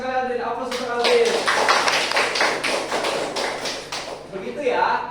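Classroom applause for a student during a microteaching lesson: a few seconds of dense, brisk clapping from a group, with a speaking voice heard at the start and end.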